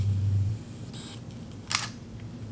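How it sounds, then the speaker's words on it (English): A Sony or Fujifilm X-T3 camera shutter fires, with a brief mechanical click near the middle of the clip and a fainter click before it, against a low steady background hum with no talk. "I do love the sound of the shutter on both my Sony and on this X-T32."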